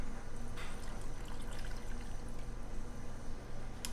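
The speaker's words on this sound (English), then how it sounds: "Be sure to put all the juice in there." Juice poured from a pot into a canning pan for stone soup, a steady continuous trickle and splash, close and even throughout, with no talking.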